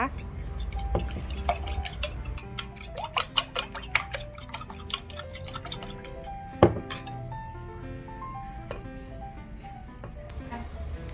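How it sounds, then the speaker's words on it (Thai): Eggs with chopped spring onion, carrot and Golden Mountain seasoning sauce are beaten in a bowl for a Thai omelette, giving quick, rhythmic clinks and taps of utensil against the bowl, close and continuous. "ใส่ผักลงไปเลยที่เราเตรียมไว้ แล้วก็ ตีเข้ากันนะคะ"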